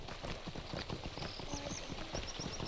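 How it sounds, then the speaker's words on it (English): Horse hooves clip-clop at a steady trot in the Lord of the Rings Online video game, faint under a low ambient game background with no voices. "we are back to getting on our horse and riding up"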